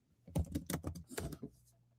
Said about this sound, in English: He be beating the hell out of that keyboard